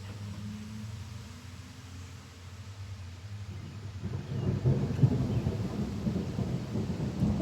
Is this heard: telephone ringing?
no